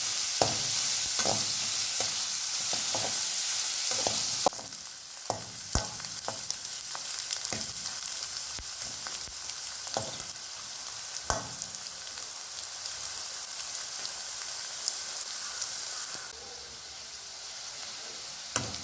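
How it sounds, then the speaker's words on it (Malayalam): Shallots, ginger, garlic and green chillies sauté in a pan for pepper chicken, with a continuous crackling sizzle and frequent clicking stirs throughout, a little softer after the first few seconds, no voices. "ഇപ്പോൾ ചെറിയ ഉള്ളി, ഇഞ്ചി, വെളുത്തുള്ളി, പച്ചമുളക് ഇതെല്ലാം നന്നായി വഴറ്റി ഇതൊരു നല്ല പരുവത്തിലായിട്ടുണ്ട്"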